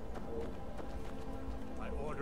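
Horse hooves in Skyrim: a rapid, even clip-clop of a running horse drumming under steady rumbling, moderately loud, with a voice speaking over it.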